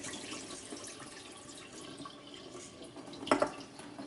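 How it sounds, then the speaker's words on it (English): Tap water runs softly while red lentils are rinsed in a kitchen, a quiet continuous trickle broken near the end by a brief, brighter splash, with no speech. "You can see that I am washing the lentils, and you can see the amount of cloudiness that is coming out in the water."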